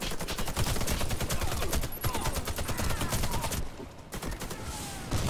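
Dense automatic gunfire and overlapping shots rattle nonstop in a Warface co-op match, loud and continuous, with a brief dip near the end before the firing picks up again.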